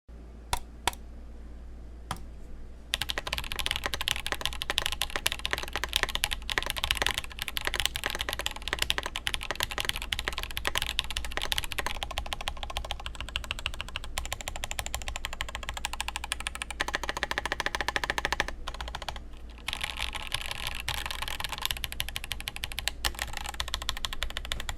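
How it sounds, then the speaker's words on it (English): Continuous fast typing on an Akko ACR Top 75 aluminium mechanical keyboard with Akko Palm Silver switches, sharp, clacky keystrokes, close up and alone, with a brief quieter stretch of isolated clicks at the start. "The Akko Palm Silvers are some real clacky switches."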